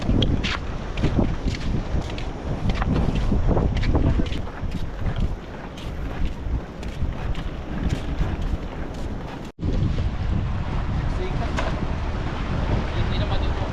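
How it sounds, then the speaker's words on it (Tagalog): Strong wind buffets the microphone at Moruya Heads, Australia, while fishing, with a constant loud roar and gusty rumbling, and voices can be heard beneath it. "Pero medyo malakas ang hangin."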